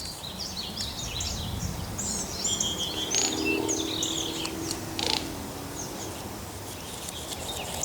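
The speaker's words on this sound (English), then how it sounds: "That sound y'all just heard, that is a chaparral, roadrunner." A greater roadrunner calls outdoors, a low, cooing run of notes mid-clip among scattered chirps and calls of birdsong, over steady background ambience.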